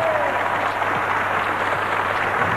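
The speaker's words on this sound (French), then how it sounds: "François, on peut l'applaudir, c'est le dessinateur de Natacha." An audience at a French television special applauds in a steady, dense wash of clapping that lasts throughout without a break.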